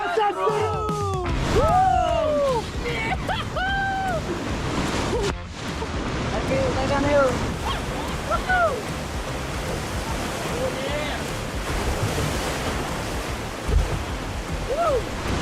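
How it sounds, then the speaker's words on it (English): Waterfall in a backyard near the Asahan River, a constant broadband roar of falling water with voices and shouts mixed in over it. "there's a damn waterfall in our backyard"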